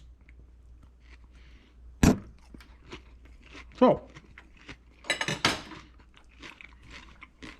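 Crunchy wedge salad of vegetables with a creamy, spicy dressing being chewed up close: a few sharp crunching bites spaced a couple of seconds apart, with a brief spoken word.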